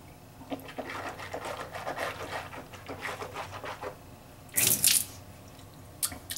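Water swishing and sloshing as a mouth is rinsed out, the close wet gurgling building to a louder splashing burst near the end, likely spitting into a sink, with no talk.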